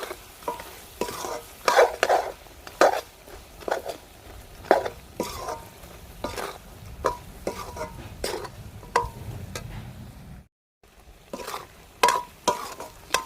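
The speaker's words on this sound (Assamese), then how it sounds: "এতিয়া আমাৰ মাংসখিনি ভালকৈ ভাজা হ'ল" A spatula scrapes and stirs pieces of meat frying in hot oil, with a steady sizzle under repeated clattering strokes against the pan, pausing briefly near the end before resuming.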